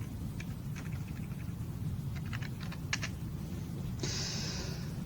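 Scattered keystrokes on a computer keyboard while writing Arduino code, coming in short irregular bursts of clicks over a steady low hum, with a denser flurry near the end.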